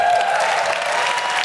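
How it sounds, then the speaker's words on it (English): Loud, dense audience applause for an 81-year-old Canadian tap dancer on stage, a close, steady wash of many hands clapping together for a brief moment. "that's the first time I ever got applause for being alive."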